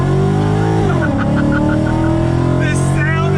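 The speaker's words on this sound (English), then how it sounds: "just to hear that exhaust on throttle." 2014 Ford Mustang GT V8 exhaust under throttle in a slow rolling acceleration, a loud close growl climbing steadily in pitch with a brief shift dip, as a voice talks over it.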